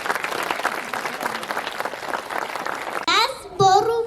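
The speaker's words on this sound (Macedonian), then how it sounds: "охрабрете ги со еден силен аплауз" An audience at a kindergarten farewell celebration applauds the children's performance, with dense sustained clapping up close for about three seconds before a voice begins speaking into a microphone.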